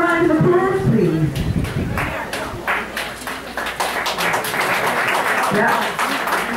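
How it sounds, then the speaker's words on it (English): A burst of applause and scattered clapping from a crowd, with a voice speaking over the start before the claps build and continue. "So can we give her a round of applause"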